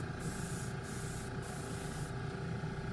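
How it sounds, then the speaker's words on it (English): An airbrush sprays Airbeast Super Chrome paint with a steady close hiss over a constant compressor drone, and the hiss cuts in and out in short bursts. "spray your chrome over white"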